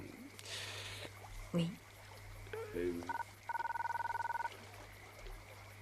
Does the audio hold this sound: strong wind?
no